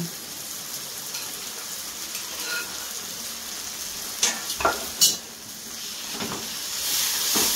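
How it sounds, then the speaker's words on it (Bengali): Fried eggs go into hot masala in a pan for a dhaba-style egg tadka, a steady close sizzle with a few sharp stirring scrapes and clanks near the middle. "এবারে আমি এই মশলার মধ্যে ডিমটা দিয়ে দিলাম।"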